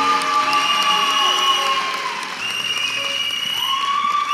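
A church congregation applauds and cheers at an installation ceremony, a dense wash of clapping and whoops with sustained tones running through it, close and loud throughout.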